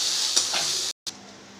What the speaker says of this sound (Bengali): এবার এর মধ্যে কেটে রাখা পেঁয়াজগুলো দিয়ে দেবো। আরও 2 থেকে 3 মিনিট ভালো করে ভেজে নেব।